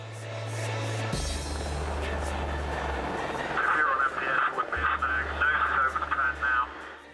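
Helicopter landing on a temporary prepared platform, a steady loud rotor and engine roar throughout with low throbbing, shifting as it settles, while faint voices are heard.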